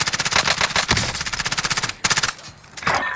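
Rapid automatic gunfire rattles loudly in Call of Duty Rebirth Island, a long rhythmic burst followed by a short pause and a second burst, close and dominant with no talking.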